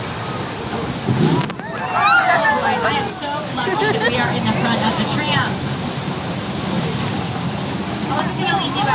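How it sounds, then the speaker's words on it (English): Flash flood water effect on the Universal Studios Hollywood tram ride: a steady, loud wash of rushing, splashing water fills the whole stretch, with excited voices talking over it from the front of the tram. "Oh, looks like he was right about the flash flood."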